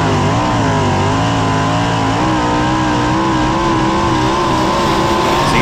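USAC race car lapping Eldora Speedway, its engine a loud, sustained roar with a wavering pitch as it comes around the dirt track during timed qualifying.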